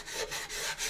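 Plastic AMT 1983 U.S.S. Enterprise model kit part being hand sanded for paint prep, a soft, faint rhythmic scratching of about four quick back-and-forth strokes.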